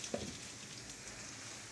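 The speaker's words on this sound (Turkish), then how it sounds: "Yağımla birlikte patateslerimi, havuçlarımı da kavurdum." Potatoes and carrots sautéing in oil for a pilaf, a steady, soft sizzle with a faint crackle, heard up close and alone.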